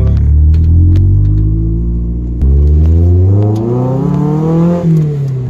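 Lotus Elise S2 sports car engine revving and accelerating up through the gears, a loud, close rising drone with a brief dip at a gear change, continuous for several seconds with no talk.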